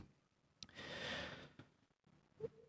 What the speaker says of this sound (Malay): Tarik nafas terlebih dahulu.